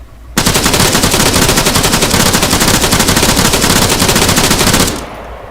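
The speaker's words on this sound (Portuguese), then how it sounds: "Tô atirando aqui." Sustained automatic gunfire in ArmA 3, a loud, dense stream of rapid shots lasting about four and a half seconds before cutting off.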